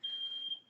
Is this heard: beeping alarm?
yes